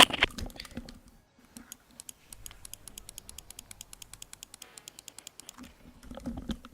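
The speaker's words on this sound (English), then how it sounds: "I'm clicking. Here's my mouse." A computer mouse clicks over and over in a quick, fairly even series of sharp, close taps, with a short busier burst at the start and no talking.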